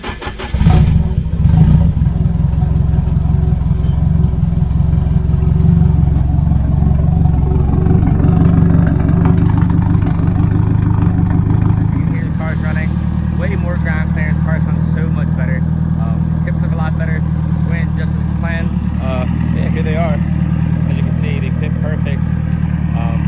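Straight-piped Nissan S14 240SX with an ISR blast pipe idling up close, a loud rough drone that surges with revs early on, then settles into a lower, steadier rumble.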